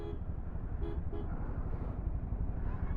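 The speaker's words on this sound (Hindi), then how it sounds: "रेड लाइट है फिर भी लोग हॉर्न मार रहे हैं" Car and bus horns toot at a red light amid steady road traffic rumble, with two or three short honks standing out near the middle of a noisy street scene.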